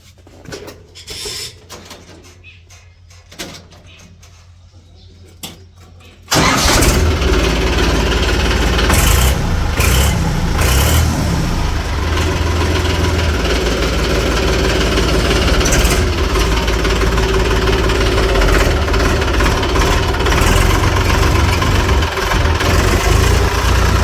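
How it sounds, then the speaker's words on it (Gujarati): Quiet clicks and handling noises, then a tractor engine suddenly starts and settles into a loud, steady, rumbling idle that runs on without pause. "ટ્રેક્ટરને બહાર કાઢીએ"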